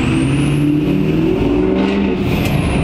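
Ford 6.0 Powerstroke truck engine fitted with a KC 10-blade turbo, heard from inside while driving: a loud, steady engine drone with a rising high-pitched turbo whistle that sweeps up and falls away.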